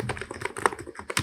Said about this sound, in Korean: 무접점이라서 보글보글 소리, 이 소리가 굉장히 매력적인 소리입니다